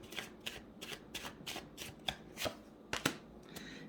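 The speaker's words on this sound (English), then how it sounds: "Now you have the Hierophant, the Eight of Pentacles, and the Devil card." Tarot cards being shuffled, a quiet series of crisp riffling snaps spaced roughly every half second, close and alone with no talk.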